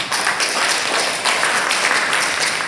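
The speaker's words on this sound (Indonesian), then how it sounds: "kami tepuk tangan semuanya." An audience at an Indonesian community discussion event applauds with dense, sustained clapping throughout.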